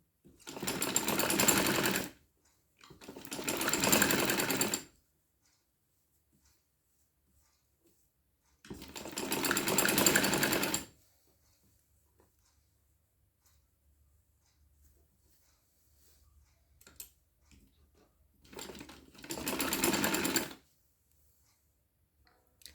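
A sewing machine stitching a trouser runs in four separate bursts of steady fast needle chatter, each about two seconds long, with near silence between them.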